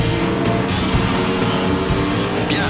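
Race car braking, downshifting and accelerating through a corner on a circuit, a loud continuous engine roar close by with no talk over it.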